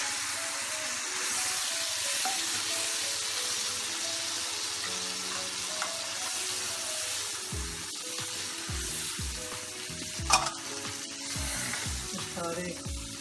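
Tomato and spices sizzling and frying in a pan for anday aloo dum biryani, a steady crackling hiss with repeated scraping stirs and clinks in the second half, close and alone.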